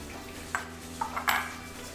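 Vegetables for a fried eggplant salad, including yellow peppers, shredded carrots and red onions, being tossed together in a bowl, with a few light clinks and taps of a utensil against the dish over a quiet hum.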